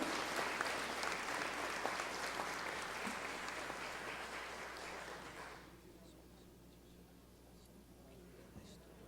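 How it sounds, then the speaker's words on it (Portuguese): Applause from an audience for Portugal's consul general at a Day of Portugal and Camões commemoration, steady and dense for about six seconds before thinning abruptly into scattered claps and room hush. "Salva de palmas esse homem culto."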